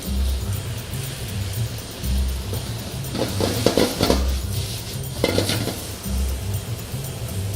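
Onions tipped into a hot pan with browning pork, bringing a clatter of metal utensils and pan scraping around the middle, over a low steady sizzle.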